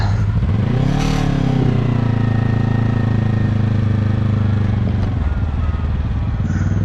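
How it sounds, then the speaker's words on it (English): A 2025 Yamaha R3 motorcycle accelerating and upshifting with a quick shifter, the engine rising in pitch then holding a loud steady drone with a brief shift break, heard up close while riding. "gently accelerate and upshift without using the clutch"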